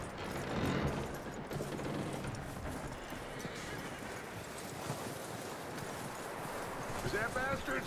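Horse hooves clip-clop steadily in Red Dead Redemption 2 game audio, a continuous dense trotting rhythm with a whinny-like sound near the end, set against busy background game noise.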